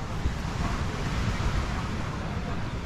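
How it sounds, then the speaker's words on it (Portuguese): Rough ocean surf pounds a beach at Cachadaço in Trindade, Paraty, as a continuous loud wash of breaking waves with wind buffeting the microphone. "Tô achando que o mar tá batendo hoje"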